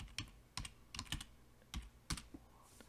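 Typing on a computer keyboard: a few quick clusters of clicky keystrokes over about three seconds, close but quiet, with no talk.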